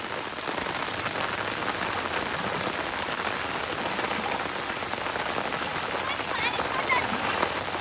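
Heavy rain pours steadily onto a flooded village road in Balasore, Odisha, a dense, constant hiss of drops striking water that holds even and loud throughout with no voices.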